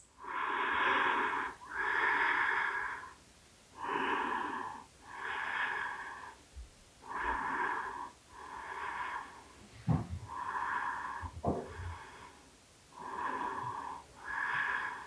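Slow, deep breaths taken during a yoga stretch: about ten steady, close inhale and exhale cycles, each one airy and slightly wheezy, with brief pauses between them.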